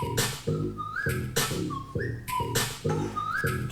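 Melodic whistling rides over a looping played beat, short rising whistle phrases repeating in time with punchy, rhythmic drum hits that stay close and prominent with no talking.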